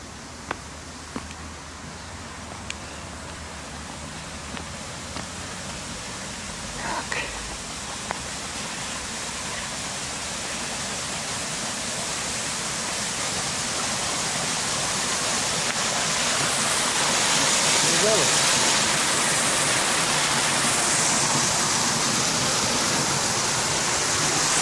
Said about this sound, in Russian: шумит там водопад.